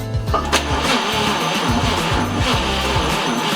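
A 1947 Chevrolet Fleetline engine cranks repeatedly in a steady rhythmic churn, catching briefly with a sputter near the start but never firing into a run, loud and close throughout.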